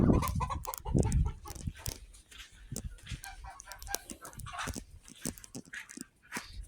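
Chickens and ducks cluck and squawk close by in a busy farmyard, with scattered bird calls and a bark-like cry early on.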